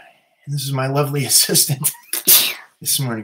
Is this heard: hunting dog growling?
no